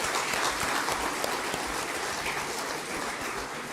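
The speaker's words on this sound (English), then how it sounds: "can we have a round of applause for our Honorable Minister?" At a women's leadership plenary session, the audience gives the Honorable Minister a round of applause, a dense, steady wash of clapping that holds evenly for a few seconds.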